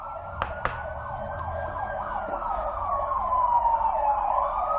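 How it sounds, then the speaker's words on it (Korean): A loud emergency siren passes outside a lecture room, wailing steadily up and down in repeated sweeps. Its pitch slowly drops as it goes by, with no talking over it. "저 사이렌 너무 커가지고 좀만 지나가"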